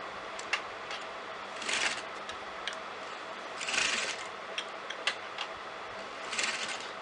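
A sewing machine stitches lace onto the neckline of a kameez in brief, faint bursts of whirring, separated by soft ticks and quiet handling.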